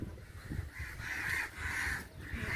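Crows cawing repeatedly in a tense group, their harsh calls rising and falling over several seconds near a rescued baby crow, with steady outdoor background noise.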